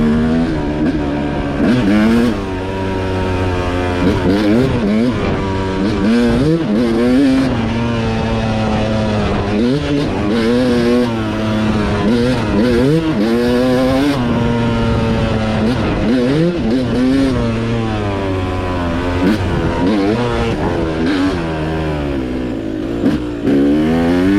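A two-stroke dirt bike engine on a forest single-track off-highway trail, revving and dropping steadily as it slows through the gears, loud and close throughout with rising and falling pitch and no talk.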